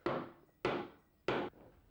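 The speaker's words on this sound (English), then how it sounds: "a strange person hammering at my furniture" Three sharp, loud hammer blows strike wooden furniture at steady intervals of about 0.6 seconds, each a close, solid knock with a short decaying ring, heard alone without talk.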